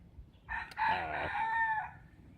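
A single rooster crows once, a clear, fairly close cock-a-doodle-doo rising and trailing off over about two seconds against quiet background.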